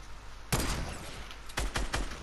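Gunshots in Fortnite: a sharp loud report followed by a short burst of two or three more cracks, with a noisy game ambience between them.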